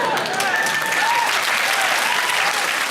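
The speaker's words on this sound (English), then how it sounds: "Shall we applaud?" Studio audience applauding at a comedy panel show, a loud, dense, continuous wash of clapping from a full room with a few whoops mixed in, sustained throughout.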